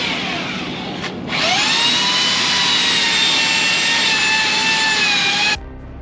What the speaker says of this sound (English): dropping down with the belt sander